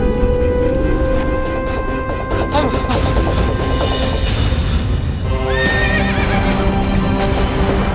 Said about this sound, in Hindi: अश्वशाला में तो अग्नि लगा दी इसने। अश्व तो अनियंत्रित हो चुके हैं, कहीं कुचल ना दे हमें।